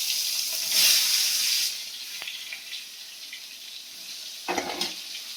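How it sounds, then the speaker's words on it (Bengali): Large eggplant pieces fry in hot oil in a wok, giving a continuous hissing sizzle that swells briefly at the start and again near the end. "আমি বেগুনগুলো ভাজতে থাকি।"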